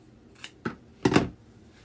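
Scissors snip through material while a dog-themed pancake wreath is being crafted: three crisp cuts, the last one longer and louder, close by against a quiet room.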